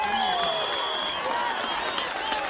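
Crowd at a protest march clapping, scattered close claps over a dense murmur of voices and whistling cries, held at a steady level for a few seconds.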